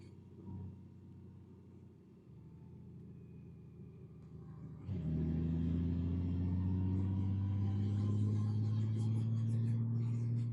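A 2025 Honda Goldwing motorcycle cruising at 80 mph in seventh gear gives a low, steady engine drone. After a quieter opening the drone swells into a loud continuous rumble with wind noise.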